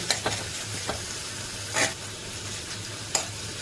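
Onion cooking in a pan or kadai for a potato rassa bhaji gravy, a soft continuous sizzle with a few scattered scrapes and clicks of stirring, close and moderately quiet, no voices.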